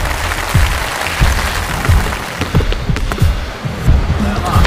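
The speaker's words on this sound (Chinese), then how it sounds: "掌声鼓励一下" Crowd applause fills an indoor basketball game after a missed free throw, a dense, loud clapping wash with ball-bounce thuds and a voice underneath.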